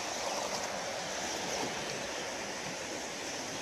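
A small river runs through woodland toward farm fields, making a steady, even rush of flowing water that continues without a break at moderate loudness. No voices are heard.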